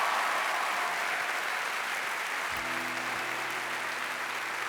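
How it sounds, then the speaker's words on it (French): A theatre audience at a comedy show applauds the technical crew, with sustained, even clapping from a large crowd heard from a distance. "On peut d'ailleurs applaudir toute l'équipe technique de ce spectacle"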